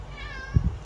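A house cat gives a single short meow close by, a brief tonal call followed by a couple of soft low thumps, with a quiet room behind it.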